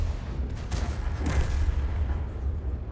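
A Hummel self-propelled artillery gun fires in a World of Tanks match, a single muffled boom around the middle rising over steady low rumble and battlefield ambience, with no other distinct shots.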